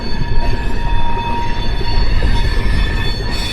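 A Garib Rath passenger train, the Yesvantpur to Secunderabad express, rolls along the rails with a steady, loud rumble and faint high wheel tones throughout, close by and with no speech.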